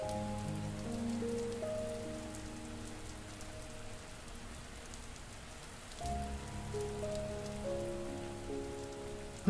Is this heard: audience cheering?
no